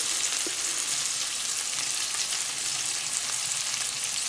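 Italian meatballs browning in a frying pan, a dense, steady close-up sizzle with faint stirring and no voices.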